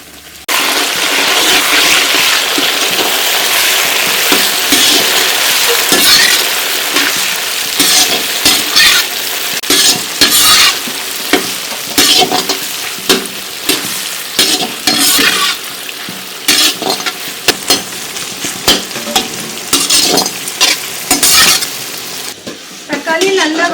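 Chopped tomato frying with fried onion and curry leaves in a pan for a potato and brinjal stir-fry, a loud close sizzle broken by repeated rhythmic scraping strokes of a spatula.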